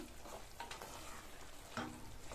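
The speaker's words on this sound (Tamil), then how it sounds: "இதுல பொடியா கட் பண்ண கொத்தமல்லி இலைகளை சேர்த்துட்டு நல்லா ஒரு தடவை மிக்ஸ் பண்ணி விட்டுட்டு ஸ்டவ் ஆஃப் பண்ணிடலாம்" Avarakkai and green peas masala being stirred in a pan after chopped coriander leaves are added, giving a soft, steady scraping and gentle sizzle close up, with a couple of light spoon knocks against the pan.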